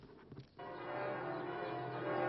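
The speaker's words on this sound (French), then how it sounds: "Les cloches de Notre-Dame sonnent pour Jean-Paul II." Church bells of Notre-Dame in Paris ringing in tribute to Pope John Paul II, a faint distant resonant peal sustained throughout, with a brief muffled disturbance at the start.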